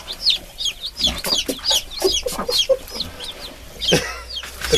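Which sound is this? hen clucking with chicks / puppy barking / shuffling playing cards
hen clucking with chicks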